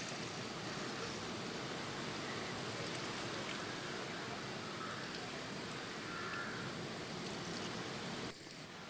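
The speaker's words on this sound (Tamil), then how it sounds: "நல்லா தண்ணி ஊற்றிக்கலாம்." Water pours steadily onto turnip plants in a home organic garden, a continuous broadband rushing splash that stops abruptly near the end.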